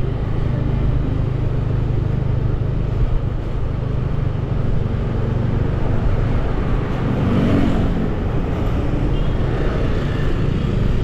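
Steady road traffic rolls past on a street in Kuta, Bali, with cars and motorbikes blending into a continuous, moderately loud roadway hum and no talk.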